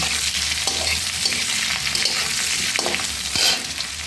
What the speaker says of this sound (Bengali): এখন এই পেঁয়াজটাকে আলুর সাথে হালকা ভালো করে নেব নরম হওয়া পর্যন্ত